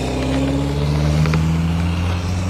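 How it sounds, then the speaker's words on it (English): A truck engine that sounds unhealthy revs nearby, loud and close, with a rough, droning tone that shifts in pitch over a couple of seconds, and no one speaking. "go get that truck looked at. That don't sound good, sir."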